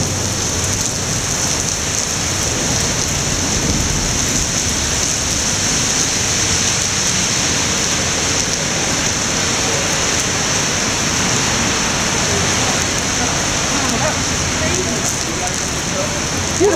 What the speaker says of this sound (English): Now it's rain. Got some thunder and some storm?